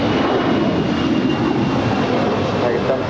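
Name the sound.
airplane jet at LAX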